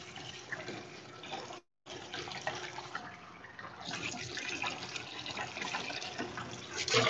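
Running tap water splashing while soba noodles are rinsed in a sink, a steady rushing flow that briefly cuts out and then resumes, getting slightly louder near the end, no talk.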